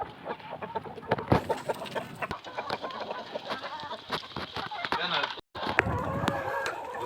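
Chickens and farm fowl cluck and squawk close by, with a rooster crowing among them, while someone talks over the busy, continuous flock noise.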